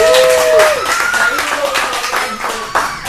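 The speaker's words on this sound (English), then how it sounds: "Big round of applause for Bill Muth!" Applause for an honoree at a fourth-anniversary event in Stockton, clapping running throughout with a speaker's voice over it and a sharper clap near the end.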